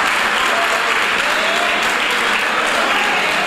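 Loud, dense applause fills a hall during an event on women in sport with the Dominican Olympic Committee, a continuous close roar of many hands clapping without pause and no voices standing out.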